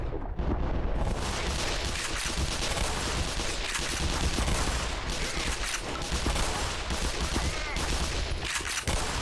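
Sustained, dense gunfire during a Black Mesa firefight, loud and continuous rattling bursts filling the whole stretch with no let-up.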